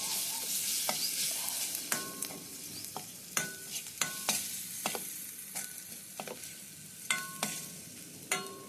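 Ginger-garlic paste and turmeric being stirred into browned onions in a pan for potato masala curry: a quiet, steady hiss of frying under a string of distinct metallic spoon clinks and scrapes against the pan, no speech.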